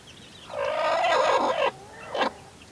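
Young chickens call close by, a drawn-out, warbling cry lasting about a second, then a short second squawk, with no talk.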